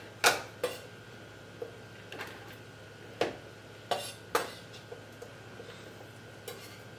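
Apple pieces tossed into dressing in a bowl make a series of separate clinks and scrapes of utensil against the bowl, irregularly spaced and fairly quiet.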